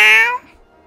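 A cat in the video game South Park gives a single loud, close meow that falls in pitch and fades out quickly.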